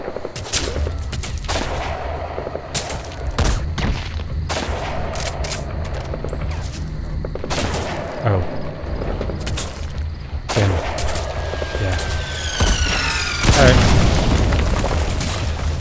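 Gunfire in the video game Metal Gear Solid V during a heavy infantry elimination mission: repeated sharp shots and booms in bursts, with a louder, heavier blast near the end over a dense battlefield ambience.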